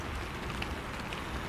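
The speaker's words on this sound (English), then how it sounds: "So tonight, we're going to let the rain do its job." Steady rain falls on a surface in a dense, even hiss with no pauses, close and continuous throughout.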